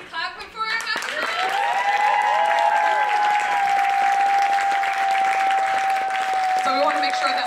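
An audience at a Martin Luther King Jr. celebration gives a big, sustained round of applause, dense and steady, with a long high tone like a cheer or whistle riding above it.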